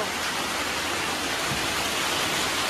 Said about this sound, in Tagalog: Lakas ng ulan. Lakas talaga ng ulan.